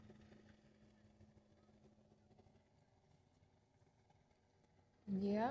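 A noisy fishing boat engine on a catfishing trip hums low and steadily at a faint level for several seconds, then a sudden loud, rising, voice-like burst cuts in at the end.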